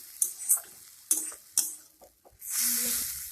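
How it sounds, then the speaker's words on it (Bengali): A spoon stirs eggs in a pan of egg curry, with sharp scraping strokes against the pan and a few taps, followed by a broad hiss of sizzling sauce. "ডিমগুলো একটু নেড়ে নেব"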